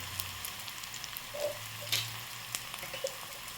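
Frying in a pan at home while Maggi noodles cook, a steady low sizzle with a few brief clinks and scraping stirs, fairly quiet with no voices.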